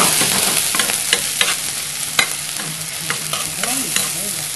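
Yak-gochujang, a Korean seasoned chili paste sauce with sesame salt and a spoon of water, simmering thickly in a pan for bibimbap while a utensil stirs it, giving steady sizzle with scattered scraping clicks, close and alone.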